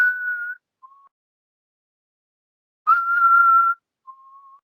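A man whistles to imitate the calls he heard over a ridge in the woods while bow hunting: a sustained high whistle, a short lower one, then another long whistle and a short soft one, separated by silence.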